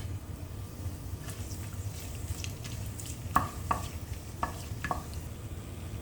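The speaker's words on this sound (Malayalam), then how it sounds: "എണ്ണ ഇപ്പോൾ നന്നായിട്ട് ചൂടായിട്ടുണ്ട്. ഞാനിപ്പോൾ ഇതിലേക്ക് 4 മസാലകൾ ചേർക്കുന്നുണ്ട്." Whole spices go into hot oil: two small pieces of cinnamon, four cloves, four cardamom pods and a bay leaf. A steady low sizzle plays under a few light clinks and taps from stirring, with no voices.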